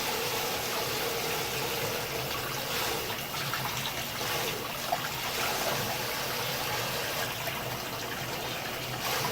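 Warm water runs steadily from a tap while a dog is being bathed, a constant close gushing stream with no talk over it.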